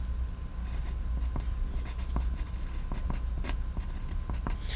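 A pencil scratches across paper while a physics friction problem is worked out on the page, with short strokes and taps repeating over a steady low room hum and no talking.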